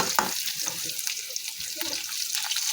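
Prawns and onions fry in a pan for prawn sukka, a soft continuous sizzle with light stirring scrapes, fairly quiet and close.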